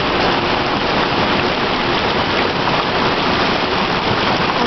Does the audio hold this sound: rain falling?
yes